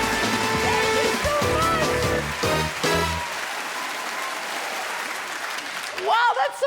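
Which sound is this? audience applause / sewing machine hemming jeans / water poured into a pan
audience applause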